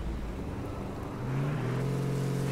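Car engine in the battle-royale video game H1Z1, a steady motor drone that swells and rises in pitch halfway through as the vehicle accelerates, loud and continuous with no talk over it.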